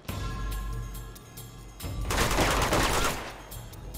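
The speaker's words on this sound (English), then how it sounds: "Machine gun over there!" Machine gun fire in Uncharted 2: Among Thieves, a dense burst of rapid shots close by around the middle, with scattered single reports and thuds before and after.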